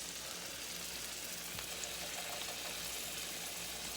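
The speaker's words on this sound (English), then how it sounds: "I heated up just enough so that they'll sizzle when I pop them in" Hot dogs sizzle and crackle in olive oil in a hot pan, a steady hissing frying sound with no voices.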